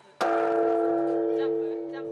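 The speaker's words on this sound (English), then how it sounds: "with a traditional bell-ringing ceremony" A large temple bell at Tokyo's Tokudaiji Temple is struck once during a New Year bell-ringing ceremony, giving a sharp onset followed by a long, sustained, gradually fading hum.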